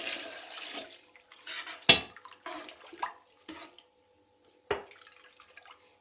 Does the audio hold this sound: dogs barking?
no